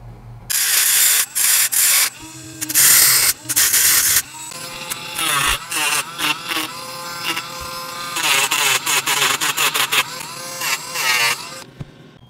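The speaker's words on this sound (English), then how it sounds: "We'll just Dremel these guys off, at least in the fronts." A Dremel rotary tool grinds fake reservoirs off the plastic shocks of a small SCX24 RC crawler, in loud high-pitched bursts of whining and rasping that start and stop repeatedly, with pitch dropping as it bites.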